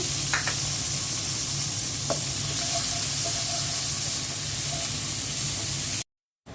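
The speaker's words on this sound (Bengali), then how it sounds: "মাছ ভাজা তেলের মধ্যেই পেঁয়াজ দিয়ে দিচ্ছি" Onions sizzle and hiss in hot oil left from frying fish, with a constant crackling wash, a couple of light clinks of a utensil early on, before an abrupt cutoff.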